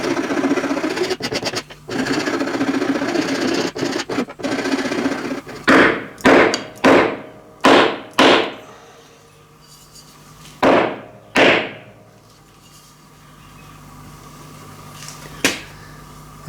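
A hammer handle being whacked on a workbench to seat it in the head of a cast brass machinist hammer, giving a string of loud, sharp wooden knocks in uneven bursts with a quiet pause between groups.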